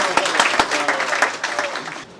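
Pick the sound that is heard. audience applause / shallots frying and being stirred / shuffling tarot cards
audience applause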